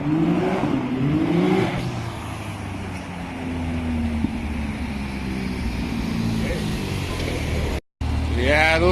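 Turbocharged 2020 Can-Am Maverick X3 XMR side-by-side (120 hp) on a trail, its engine note climbing in a rising sweep, loud and close, then dropping briefly to near silence before surging again, with voices talking over the engine.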